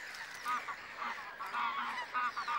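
Gray geese in the Volga Delta, a flock honking in repeated nasal calls, fairly distant and faint against a quiet outdoor background.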